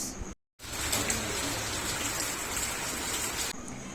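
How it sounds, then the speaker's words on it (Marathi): Steady rain pours outdoors during construction work, a dense even hiss of drops on surfaces after a brief cutout, with faint birds in the background. "आज दिवस सकाळपासून पाऊस चालू आहे तरी पण काम चालू आहे"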